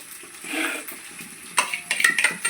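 Leftover dosa batter being stirred with a spoon in a pan, soft scraping swirls followed by a few light metallic clinks and taps of the utensil against the pan, quiet and close with no talking.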